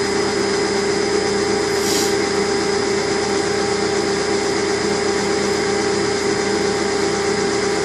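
A power tool cuts an angled chamfer onto a drum lug, giving a steady, loud, continuous whine and grinding hum that runs unbroken throughout, with a brief brighter rasp near the start.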